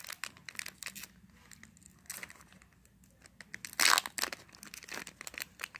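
A Dollar Tree Pokémon card pack being torn open, with a sharp, loud crinkly rip near the middle set among softer scattered crinkles and rustles of foil packaging close by.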